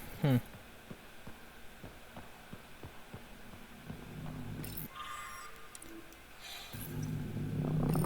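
A cat purrs in a video game, a soft, slow rhythmic throb under a low hum, with a louder clatter at the start and rustling game noises building toward the end.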